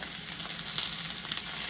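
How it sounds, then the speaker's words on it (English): Steak sizzling in a hot cast iron skillet, a dense continuous hiss and crackle throughout, close and steady with no talk. "You want to hear that sizzle."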